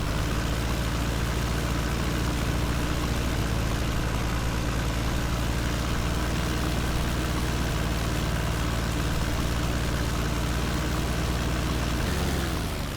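A tractor engine idles steadily in Farming Simulator 2015, a constant low rumble held loud and close for the whole stretch before it cuts off abruptly near the end.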